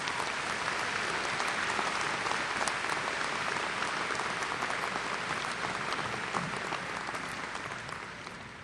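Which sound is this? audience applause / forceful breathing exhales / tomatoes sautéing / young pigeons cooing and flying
audience applause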